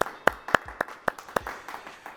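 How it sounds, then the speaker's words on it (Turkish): A handful of sharp, evenly spaced hand claps on a Turkish football quiz show, about four per second, close and distinct against a quiet background. "Bir ben alkış alalım ya valla yani."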